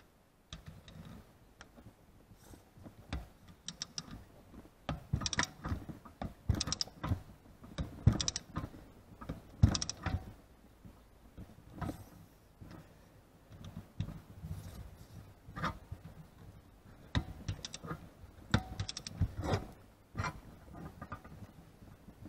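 A torque wrench tightens the wheel hub of a 2nd-generation Toyota Prius (NHW20) to 56 Nm, giving close, irregular clusters of ratcheting clicks and clunks of metal on metal, with brief pauses and no talk.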